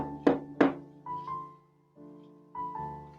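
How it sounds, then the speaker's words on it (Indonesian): Two sharp knocks on a wooden dining room door, close and loud, followed by a short ringing tone and quiet background hum. "Julia mengetuk pintu ruang makan."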